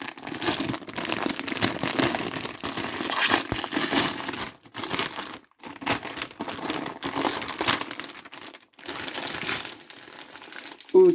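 Plastic packaging crinkles and crackles almost continuously as a Hot Wheels binder is unwrapped, a close, busy rustle with brief pauses between bursts.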